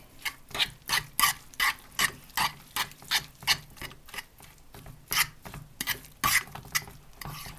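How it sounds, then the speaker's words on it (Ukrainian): A spoon scrapes and stirs a thick zucchini pizza batter with herbs in a bowl, steady rhythmic strokes repeating close up with no talking. "І це все перемішуємо."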